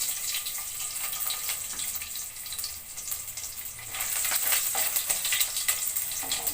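Cumin seeds sizzle in hot oil over a medium gas flame, a steady bright crackle with scattered pops that grows a little louder midway, with no voices.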